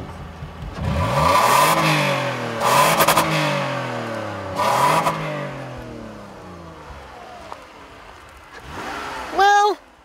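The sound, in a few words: Toyota Highlander engine revving past 6,000 RPM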